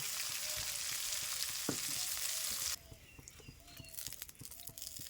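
Hot oil sizzles loudly in a pan as a dense steady hiss, which drops to a quieter crackle partway through with occasional light pops and clinks.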